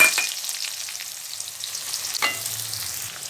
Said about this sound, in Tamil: அந்த பொரிச்ச எண்ணெய் எடுத்துட்டு கொஞ்சம் எடுத்து வச்சுருக்கேன் அதிலே நம்ம வெங்காயம் வதக்கிடலாம்